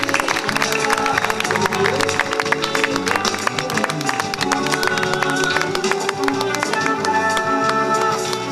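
An audience applauds at an award ceremony in Agrigento, a steady, dense wash of clapping hands that holds at full volume throughout, with music or tonal sounds layered over it.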